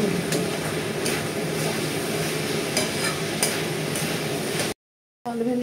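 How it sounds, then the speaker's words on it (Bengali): Potato and okra pieces fry in a pan with chilli, salt and turmeric, giving a continuous close sizzle with light stirring ticks. The sound cuts out briefly near the end, and a voice follows. "আলু ভেন্ডি ভাজা বুঝিয়ে আমি ভেজে দিচ্ছি লঙ্কা আর নুন হলুদ দিয়ে"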